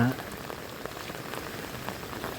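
Steady rain patters on surfaces outdoors in a rainy-season setting, a soft continuous hiss with scattered drop ticks and no voices.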